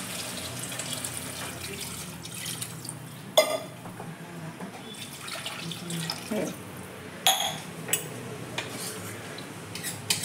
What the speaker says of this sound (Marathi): त्याच्यात टाकते मी पाणी